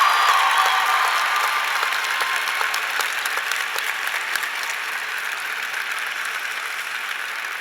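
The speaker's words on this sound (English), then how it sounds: "How about our graduates give a hand of applause to all of the people who brought them here" Graduates applaud at a university commencement ceremony, a broad, continuous roar of many hands clapping in a large space that slowly eases in loudness, with no talk over it.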